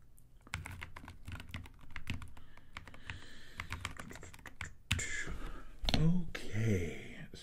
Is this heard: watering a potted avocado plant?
no